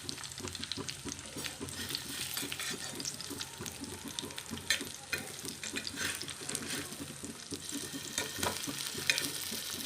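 Eggplant slices cook over a low flame with a soft, continuous sizzle and gentle bubbling crackle at moderate distance, with faint stirring touches and no talking.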